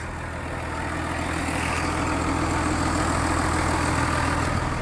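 A Case Maxxum 5140 PRO tractor's 115-horsepower six-cylinder turbocharged diesel idles steadily and close by, a continuous low rumble with a rough mechanical hum that holds level throughout.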